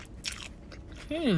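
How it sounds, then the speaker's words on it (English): Crawfish egg rolls from a Baton Rouge eatery are bitten into with close, crisp crunches, followed by an appreciative hum. "Today I'm trying crawfish egg rolls from Hungry Bites in Baton Rouge."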